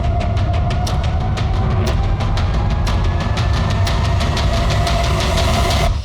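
A tempo vehicle's engine runs at a steady idle, loud and close, with a rapid, regular knocking clatter throughout and no talk.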